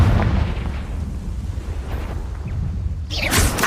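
A Confringo fire spell blasts in Hogwarts Legacy, a loud rumbling burst that sustains briefly before a sharper, brighter crack near the end.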